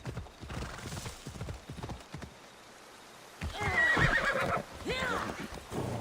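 Hooves clip-clop steadily at a trot through a river in Assassin's Creed Odyssey, then a horse whinnies loudly partway through, with a voice briefly talking underneath.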